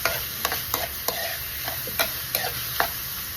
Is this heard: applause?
no